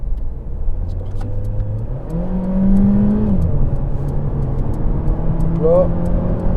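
Mercedes-Benz A 200 (W177), 163 hp, accelerating in sport mode to overtake: steady engine drone rising in pitch as revs climb after a couple of seconds, heard from inside the cabin under occasional talk.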